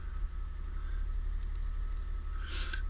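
A vehicle running on a 96-cell LTO battery pack ticks over after a restart with a steady low hum, a faint high tone and a short beep near the end.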